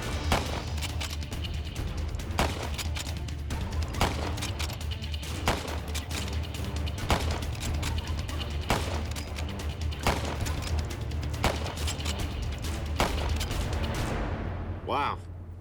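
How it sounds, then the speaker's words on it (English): An 1850s Henry lever-action repeating rifle fired in a steady series of sharp, loud shots at roughly regular intervals, each cracking report standing out over background noise, with a voice briefly at the end. "I'm firing one of the very first lever-action repeaters, a Henry rifle from the 1850s"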